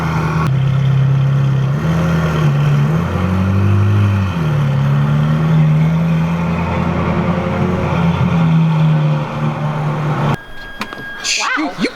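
A wide-body Porsche's engine hums low and steady while it drives inside an indoor mall, with the pitch dipping and rising slightly, and a voice speaks over it before a brief clatter at the end.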